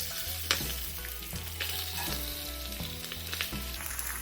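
Smoked brisket reheating on a hot griddle gives a dense, steady sizzle close up, broken by a few sharp scrapes and taps, with a low hum running underneath.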